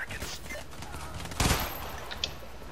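Pistol gunfire in the video game Payday: The Heist, with a sharp burst of shots midway and a quicker single crack later over low game ambience.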